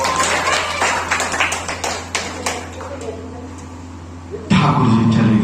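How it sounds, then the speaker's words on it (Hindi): Audience at a Bhagwat Katha religious gathering clapping in a loose, uneven rhythm of sharp claps that thins out, followed by a burst of louder sound near the end. "ताली बजाओ"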